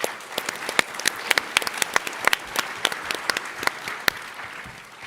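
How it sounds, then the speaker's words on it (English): A crowd applauds steadily, many hands clapping in a dense, sustained patter with sharper individual claps standing out throughout. "Give IO a round of applause"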